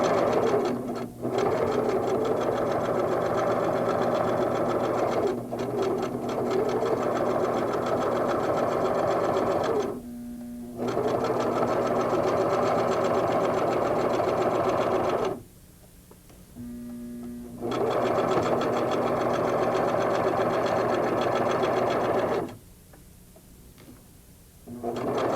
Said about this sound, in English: Back tack and continue sewing.